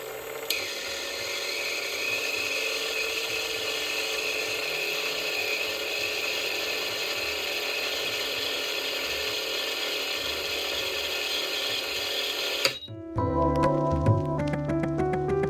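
Sewing machine stitching a folded trim piece for a jacket pocket, a steady close mechanical whir running continuously before stopping abruptly near the end, with no talk.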